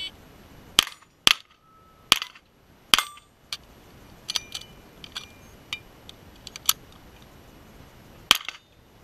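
Gunshots at a steel shooting challenge: a handful of sharp, crisp cracks at irregular intervals, loud and fairly close, followed by fainter metallic clicks and clinks in a quiet outdoor setting.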